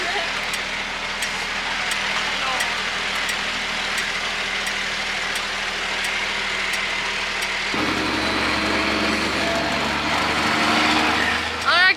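Unimog truck engine idling loudly with its exhaust missing, a steady raw mechanical drone throughout, with a deeper, rougher note taking over near the end.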